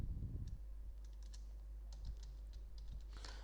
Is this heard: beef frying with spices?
no